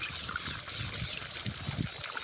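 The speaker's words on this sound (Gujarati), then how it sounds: "તો આ પાણી વાળવાનું શરૂ કરી દીધું છે આપણે।" Irrigation water trickles and gurgles into a farm field, a faint, uneven watery flow heard close up in an outdoor setting.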